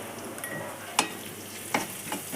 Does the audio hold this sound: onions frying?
yes